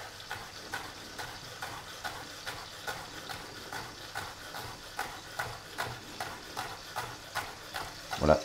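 A knife coarsely chops a seeded, halved chili pepper on a board for a Creole lamb navarin, with steady, evenly spaced soft knocks that carry on alone at a moderate, quiet level.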